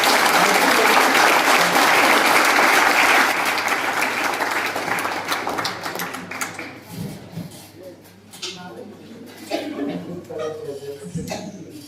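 Loud audience applause at a motivational speech event, dense clapping for the first few seconds, then thinning and fading into scattered claps and background noise.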